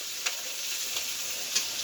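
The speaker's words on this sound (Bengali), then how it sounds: "রান্না করছি।" Frying in a pan, a steady close sizzle with a few brief sharper crackles, no voices.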